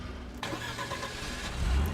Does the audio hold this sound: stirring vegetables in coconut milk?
no